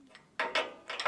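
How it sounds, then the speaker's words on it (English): Short, faint metallic ratcheting clicks from a spanner tightening a bolt on a green Kawasaki bicycle chain guard, a few quick bursts with no talk. "Alright, I'll try and screw this in. I need a spanner for that."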